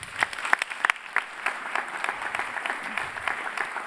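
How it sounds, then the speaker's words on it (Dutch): Final round of applause for Frank Beks at the close of an essenscia Vlaanderen annual political debate event, starting with a few sharp distinct claps, then settling into a steadier, softer patter of many hands. "een laatste applaus,"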